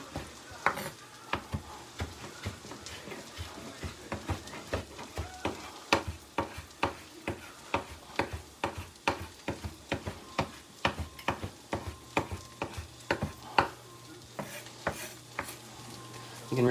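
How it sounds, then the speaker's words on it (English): Fresh dill is rough-chopped with a knife on a board, a brisk series of close, sharp taps repeating in an uneven rhythm over a quiet background. "And you just want to like rough chop it just to bring out the flavor."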